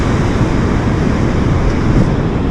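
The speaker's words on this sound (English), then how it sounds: "some of these swells coming in now must be 6 foot, I would say, 5-6 foot" Beach surf at Aldbrough on the Holderness coast, with 5–6 foot swells breaking; a steady, loud broadband wash and roar with wind buffeting, no voices.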